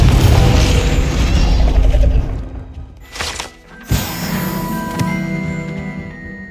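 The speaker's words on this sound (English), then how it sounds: "Confringo." A Confringo blasting spell bursting in the Hogwarts Legacy video game, heard as sharp impacts around the middle after a dense, loud rumbling start, then lingering crackling debris with no talk.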